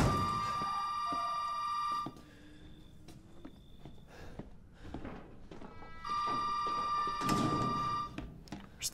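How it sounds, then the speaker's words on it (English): An old-style telephone rings in a video game, two loud bursts of bright metallic ringing about four seconds apart, with footsteps and game noise in between. "Where's the goddamn phone?"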